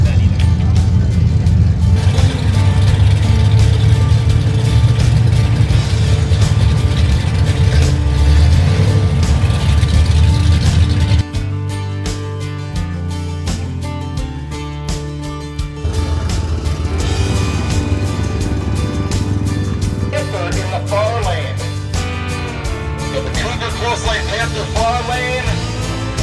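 Drag race cars at the Duct Tape Drags, including a 1970 Charger, a 1967 Sweptline and a Cougar, roaring loud and close as engines strain down the track, pitch shifting through the run.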